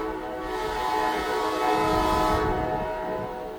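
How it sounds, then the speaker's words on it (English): An NJ Transit double-decker train passes close by in Red Bank, New Jersey, sounding a loud, sustained horn over the rolling rumble and clatter of the cars, with no talking. "Oh, that was a double-decker train from Point Pleasant."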